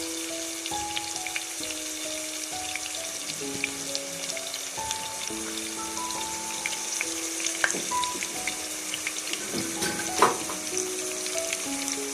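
Spices, turmeric, cinnamon and dried coriander sizzling and frying in a pan while being stirred for a white chickpea curry, a steady close crackle with occasional scraping clinks and no talk.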